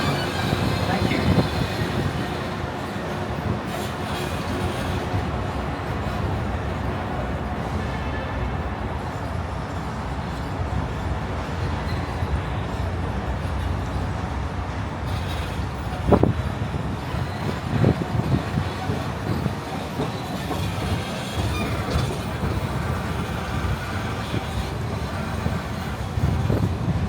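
A Disneyland Resort Mickey & Friends and Pixar Pals tram rolls along with a steady, close rumble and road noise throughout, a brief clunk midway, and faint voices in the background.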